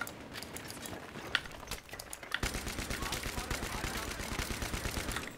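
A support soldier fires in the video game Battlefield 3. Scattered shots are followed by sustained rapid automatic bursts, a dense rattling fusillade that carries on continuously to the end.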